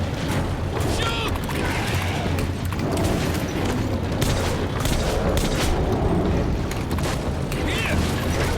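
Dense, loud gunfire and booming blasts from a firefight in the video game Metro Last Light, continuous heavy shots and explosions that rumble without pause across the whole stretch.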